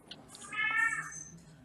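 A house cat meows once, a clear drawn-out cry close by, preceded by a couple of short soft chirps and followed by faint rustling.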